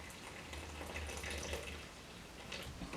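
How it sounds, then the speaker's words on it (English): Water running and splashing over tea leaves as they are rinsed, a faint steady trickle close by with no talking. "Let's see what happens after I put them through some rinsing."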